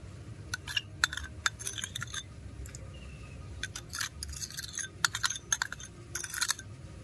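A bowl lifted from a kadai and mixed with multani mitti paste for homemade soap for oily skin, giving bursts of sharp, close clinks and scrapes against the bowl with quiet gaps between.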